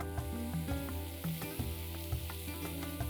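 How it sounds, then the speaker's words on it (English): Sliced red onions sizzle steadily in a hot pan for a mushroom stroganoff, a continuous close frying hiss with occasional soft stirring scrapes and pops. "Let's push the red onions, which are now sliced, into the pan."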